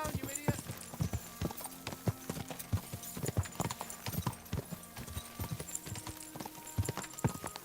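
Horse galloping at full sprint in the video game Kingdom Come: Deliverance II, hooves pounding in a fast, rhythmic clip-clop close by, with voices talking in the background.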